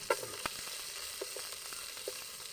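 Mustard seeds, onion and green chilies fry in a pan, giving a steady close sizzle with scattered crackles and a few soft stirring clinks, with no talk.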